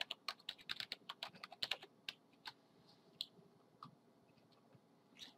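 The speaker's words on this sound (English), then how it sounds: "I have to type this in correctly." Password being typed on a computer keyboard: a quick run of close, crisp key clicks that pauses briefly, then resumes with a few scattered keystrokes, heard alone in a quiet room.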